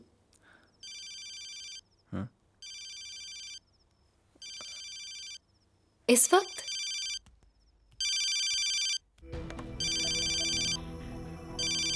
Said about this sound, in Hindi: किसका फोन है प्रिया?